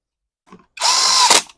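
A cordless power drill snugs bolts on a Honda GCV200 engine from a Ryobi pressure washer, giving a brief faint tick and then a loud steady whir of under a second that stops abruptly, with no talking.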